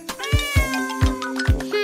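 A small kitten meows loudly and close to the microphone in about four evenly spaced, drawn-out cries with nothing else underneath.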